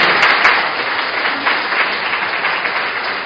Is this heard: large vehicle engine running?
no